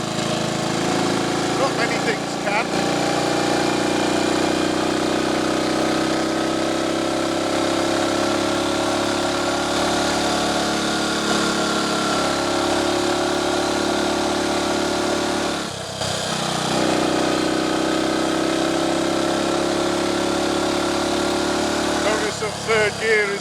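A Triumph Tiger Cub trials replica motorcycle climbs a hill on country lanes in third gear, its engine droning steadily and loud for a long stretch, with short dips where the revs change.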